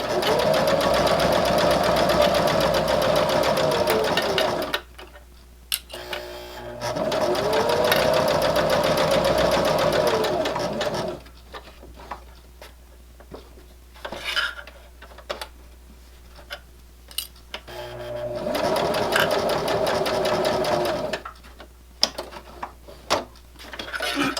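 Sewing machine stitching a fabric bookmark, three sustained bursts of rapid needle whirring separated by quieter stretches of clicks and handling noise as the fabric is turned at corners.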